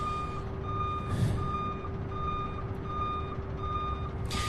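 A truck's reversing alarm beeps in a steady repeating rhythm at Louisville International Airport, moderately distant, over a low engine rumble with a brief hiss of air.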